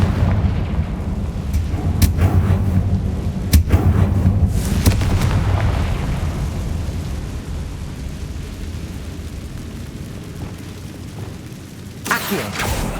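Confringo spell blasts in Hogwarts Legacy, a series of booming magical explosions with heavy low rumble, several sharp hits in the first five seconds fading into a rolling roar, then another burst near the end.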